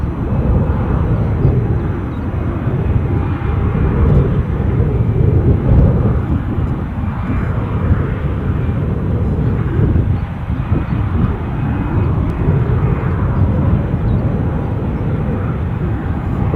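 A KLM airliner taxis out at Edinburgh airport, its engines giving a loud, continuous low rumble that swells and eases slightly across the stretch.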